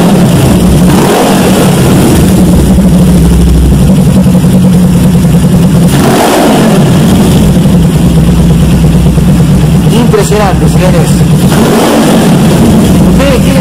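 A Suzuki GS 500 street tracker motorcycle engine runs loud and close, idling with a lumpy throb and repeatedly revving up and dropping back, while someone talks over it.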